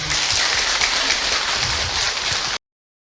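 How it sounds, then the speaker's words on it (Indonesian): A seated audience at an Islamic lecture applauds for a woman, a dense, steady patter of many hands that holds evenly for about two and a half seconds, then stops abruptly. "Tepuk tangan buat Ibu Nalia"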